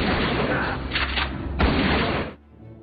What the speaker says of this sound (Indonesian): Jerry tiba-tiba datang dan menembak Westman dengan shotgun